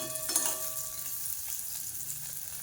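Bitter gourd pieces fry in a pan with a continuous, close sizzle and a faint spatter near the start.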